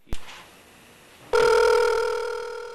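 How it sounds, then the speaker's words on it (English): A telephone rings in a movie scene: after a sharp click and a quiet pause, a loud, steady electronic ring starts abruptly and holds, close and clear. "listen how loud that phone is"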